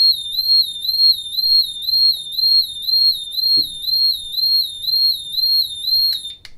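An RKI GX-2009 gas detector alarm sounds a repeating high, warbling electronic beep in a regular pulsing rhythm over a quiet background, with a faint knock midway and a brief click near the end.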